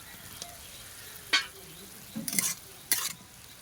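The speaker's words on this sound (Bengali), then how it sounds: "আলুগুলো দিয়ে ভালো করে কষিয়ে নেবো।" Potatoes are stirred into fried spices in a pan, a faint low sizzle broken by a few sharp scraping stirs of the spoon against the pan.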